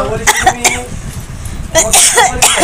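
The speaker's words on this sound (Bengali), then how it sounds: "কাশি হয়ে গেল দেখ আমার" A few sharp coughs come close to the mic in two clusters, with someone speaking between them.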